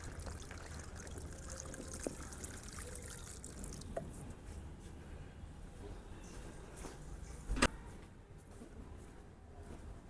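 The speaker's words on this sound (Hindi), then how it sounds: "अभी इसमें पानी डाल के देख लेंगे" Water is poured from a container onto the soil around a newly planted small apple tree sapling, a steady soft trickle and splash outdoors with a few faint knocks and one sharp click near the end.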